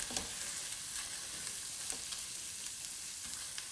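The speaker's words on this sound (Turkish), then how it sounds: "salçamız iyice kızarmaya başladı" Tomato paste frying in a pan, a continuous close sizzle with occasional stirring scrapes, loud and steady with no talking.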